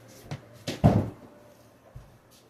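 A door is pushed closed indoors, giving a couple of soft knocks and then a firmer thud, with a faint knock after, close and without talk.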